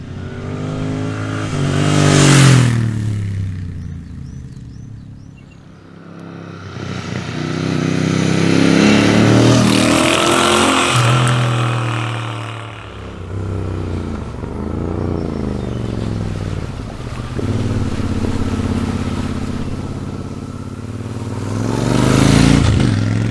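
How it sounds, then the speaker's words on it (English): A Royal Enfield Interceptor 650 motorcycle engine revs and roars in repeated surges, rising and falling in pitch, loud and close with a throaty, rumbling tone. "the Interceptor 650 sounds incredible"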